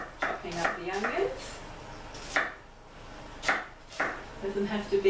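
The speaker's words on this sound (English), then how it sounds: "Chopping up the onions." A knife chops onions on a board in a few sparse, separate strikes spread out between pauses, with a voice talking over them.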